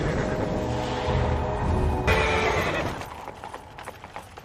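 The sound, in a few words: horse-drawn carriage, horse neighing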